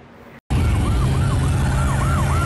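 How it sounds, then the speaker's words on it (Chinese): A police siren wails loudly and close on a highway, its pitch sweeping up and down in a steady repeating cycle over heavy road noise after a brief cutout. "有民众开车在高速公路上听到鸣警笛的声音"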